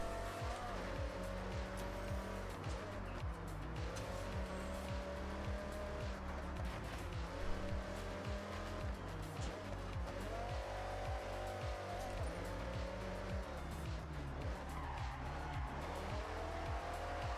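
A Dodge Viper in the Forza Horizon video game: a steady, loud engine roar rising and falling with throttle, mixed with continuous tire squeal and skidding as the car slides through corners.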